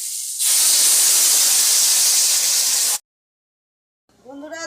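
Hot water poured into a hot pan of spice-fried potatoes and taro bursts into a loud, rushing steam hiss for about two and a half seconds, cuts off abruptly, and then a voice briefly speaks.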